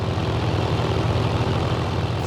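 Hawker Typhoon fighter plane on landing approach, its engine a steady, loud droning roar with a low throbbing pulse, continuous and close throughout.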